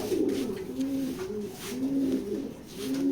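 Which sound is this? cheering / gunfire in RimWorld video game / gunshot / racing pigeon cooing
racing pigeon cooing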